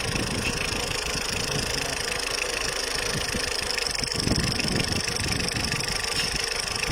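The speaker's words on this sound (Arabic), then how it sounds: "هانتوما حنا ديمارينا الموتور سخون، الموتور درت بها دوره" A warmed-up car engine runs steadily at idle, a constant mid-pitched mechanical drone with a faint ticking texture, close and alone.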